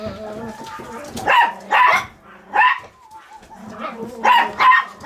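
Several Yorkshire terriers bark in short loud bursts, close by, with brief gaps and some quieter yips and whines in between.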